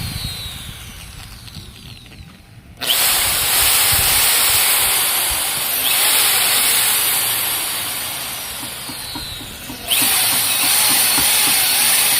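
A power drill boring 2.5 mm holes in a blue-flame burner nozzle for a used-oil stove gives a loud sustained whine with a brief dip mid-run, then a fresh burst as drilling resumes.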